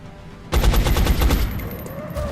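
Laser rifle fire in the strategy game XCOM: Enemy Unknown, a loud rapid burst of pulsing shots lasting about two seconds with a buzzing electronic tail, and no talking.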